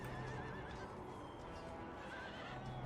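Horses neigh and whinny in the Empire: Total War strategy game during a cavalry melee, one call sustained through the clip over a dense, steady bed of battle noise.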